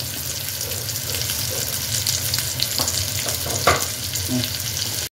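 Potatoes with chili powder and salt stirred in a frying pan: a steady close sizzle with a few scraping and clinking strokes of the spoon partway through, then sudden silence.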